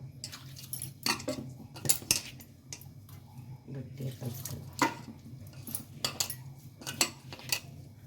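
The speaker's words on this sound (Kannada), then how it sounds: "ಈಗ ಮಿಕ್ಸ್ ಮಾಡ್ಕೊಳ್ಳೋಣ" Spinach roti dough being mixed by hand in a home kitchen, with scattered clinks of utensils against bowls and soft wet squelching and splashing, fairly close, while a voice talks intermittently.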